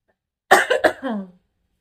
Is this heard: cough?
yes